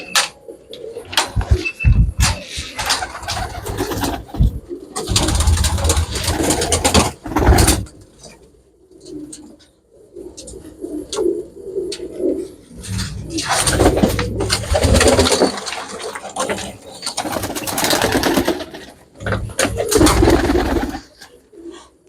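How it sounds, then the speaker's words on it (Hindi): Teddy pigeons coo repeatedly at close range, deep rolling calls coming in bursts with short pauses and occasional mechanical rattles between them. "ये टैडी कबूतर है ओरिजिनल 100"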